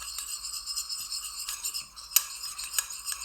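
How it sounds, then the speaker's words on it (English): A big drop of food colouring stirred into oil in a container, producing a light, continuous rattling and scraping with a few bright clinks of the utensil against the sides, close and moderately quiet. "there's a big drop of food colouring, and we're going to give it a stir"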